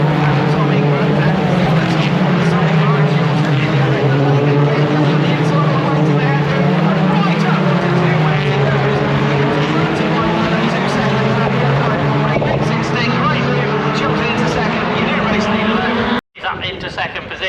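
BTCC touring cars race at Croft Circuit, a loud, continuous engine roar with rising and falling pitch as cars pass close by, dense and sustained before cutting out abruptly near the end.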